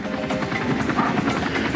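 A military helicopter flies past during a national holiday celebration, its rotor chop and engine roar holding steady and loud across the whole stretch, with no voices over it.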